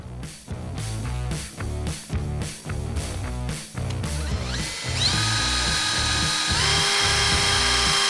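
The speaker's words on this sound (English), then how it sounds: "we'll go ahead and start drilling now that we got it marked" A drill whines in repeated short bursts as it bites into the metal roof of a Toyota Tundra CrewMax, then runs continuously at a high pitch before the bit breaks through.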